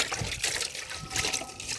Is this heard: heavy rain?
no